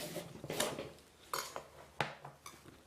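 A kitchen knife cuts through an onion on a board, with a few sharp, separate clacks of blade against wood and faint clinks, close and quiet with no talking.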